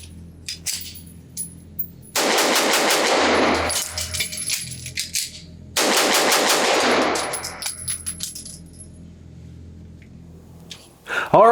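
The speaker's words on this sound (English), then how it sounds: "let's just see how fast I can shoot 5 rounds, change the magazine, and shoot 5 more" A compensated Staccato XC 9mm 2011 pistol fires two rapid five-round strings at a range, loud and close, separated by a short pause for a magazine change with small metallic handling clicks.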